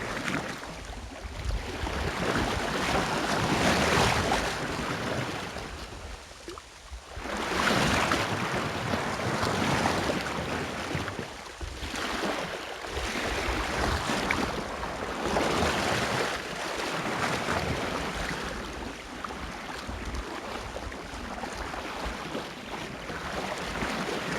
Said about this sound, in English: There's a brisk wind, but it's a dry day